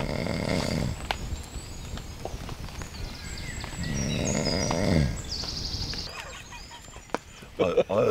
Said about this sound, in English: he's snoring his head off, he's still asleep.